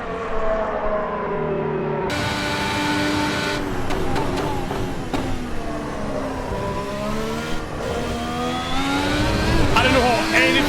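A race car engine in Assetto Corsa EVO revs loud and close, climbing through gears with sharp shifts and rising, falling whine over ten seconds, while someone talks over it.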